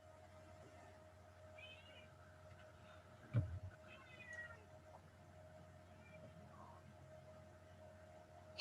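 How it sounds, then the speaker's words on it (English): A cat meows faintly a few times in the background of a quiet indoor room, with a low steady hum underneath and a brief bump partway through. "is your cat meowing?"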